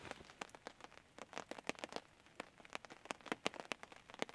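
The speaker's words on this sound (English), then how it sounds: "the rain on the tarp" Rain patters on a tent tarp during a camping storm, a dense, irregular run of close, crisp drops tapping the fabric, soft overall with no voices.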